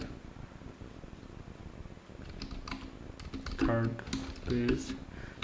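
Typing on a computer keyboard while entering an HTML5 page title, soft rapid key taps running under a voice speaking Bengali that grows louder toward the end.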